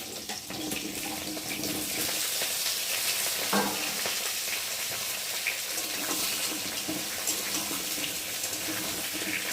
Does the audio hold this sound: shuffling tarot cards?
no